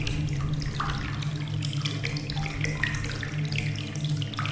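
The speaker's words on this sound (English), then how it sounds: "there is the sound of dripping water on planks" Water in the game Among the Sleep, dripping and trickling onto wooden planks in a dark bedroom: a close, steady wet pattering with a soft running-water wash beneath it, continuous and unaccompanied by voices.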